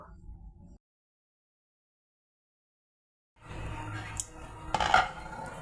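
A lid clatters onto a metal cooking pot of chicken bhuna khichuri with ghee, set over a lowered flame. The clinks and scrapes come close and clear after a short noise and a long silence.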